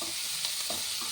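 Onions sautéing lightly in a pan for curd rice, a brief soft hiss of frying with a few faint stirring touches, quiet and steady.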